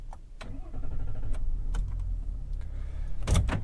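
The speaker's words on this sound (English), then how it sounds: "Before we actually start the car" A 2022 GMC Sierra 1500 AT4 with the Duramax diesel cranks and fires, a low steady rumble settling into idle, with a few sharp clicks and a louder burst near the end, close and clear with no talk.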